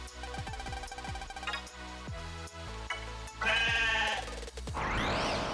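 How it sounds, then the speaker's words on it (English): A character in the Megaman Starforce 2 video game gives a run of goat-like bleats, several quick wavering cries over game music and chimes, ending in a rising electronic sweep. "Why does he make goat noises?"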